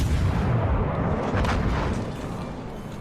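Battleship guns firing in the naval game World of Warships, a loud sustained booming roar of heavy cannon blasts that rolls on and slowly tapers off, close and dominant with no talking.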